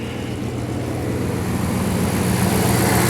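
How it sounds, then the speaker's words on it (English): Old car's 5.2 engine idling, a steady low rumble with an even, continuous hum close by, holding constant throughout with no talk. "as you can hear, it's a good running engine."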